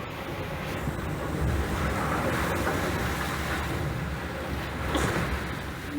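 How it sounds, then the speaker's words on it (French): Strong wind roars steadily over the crash and wash of sea waves aboard a racing sailboat at sea, a loud, continuous rush with occasional gusts. "le vent est très fort"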